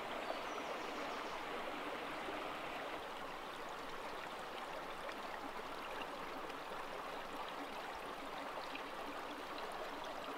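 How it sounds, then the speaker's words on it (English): Small springs trickling into a chalk ghyll stream along a valley side, giving a steady, even burble of running water throughout, close and alone. "all along this chalk ghyll, there are all these springs popping out from the sides of the valley"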